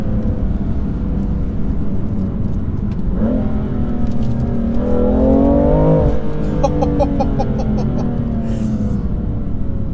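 BMW M3 Competition engine revving hard under acceleration inside the cabin, a loud sustained roar climbing in pitch through the gear, with a brief shift and fluttering exhaust pops after.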